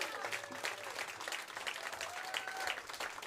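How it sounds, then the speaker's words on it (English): A crowd gives a warm round of applause for the speaker's grandmother, Val Davis, seated among the audience; dense, sustained clapping fills the room at a moderate distance, with a voice faintly audible beneath it. "Please give her an epic round of applause"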